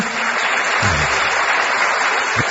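A studio audience on a TV show about healthy couples gives a loud round of applause, dense and steady for the whole stretch, with a few low murmurs underneath.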